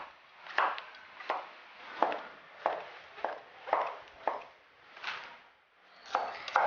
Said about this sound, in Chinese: 把杏鲍菇切成条